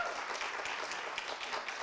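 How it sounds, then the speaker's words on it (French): Audience applause at a media innovation award ceremony, with a hall crowd clapping for bronze winners; a steady, dense wash of many hands, moderately distant and even throughout, with no talk over it. "Bravo, on peut les applaudir pour ce bronze ex-aequo."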